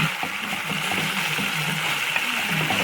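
Onions, garlic and meat sizzle in a pan while being stirred, a steady hissing fry with soft scraping and small splattering ticks, close and continuous.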